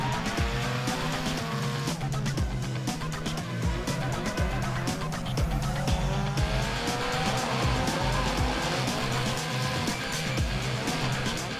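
Drift cars on a competition run at a drift event, including a Federal Tyres-backed 180SX, with engines roaring and tyres squealing continuously, loud and sustained throughout.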